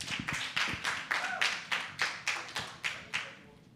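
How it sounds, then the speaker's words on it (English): Applause at a women's summit event, heard as a sparse, rhythmic series of about a dozen distinct claps fading slightly toward the end, close and fairly quiet, with no talking over it. "Ladies and gentlemen, a warm round of applause"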